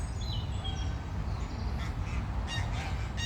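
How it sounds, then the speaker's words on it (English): Canada geese honk at a distance around a pond, faint scattered calls over a steady broad outdoor background hiss, with other waterfowl such as mallards and moorhens nearby. "The other geese further away distracted me."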